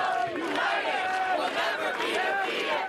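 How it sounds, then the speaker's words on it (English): A large crowd at a rally in Foley Square, New York, shouting and chanting together in loud, rising and falling waves of many voices, with no single voice standing out. "A big crowd waiting for Lander at Foley Square."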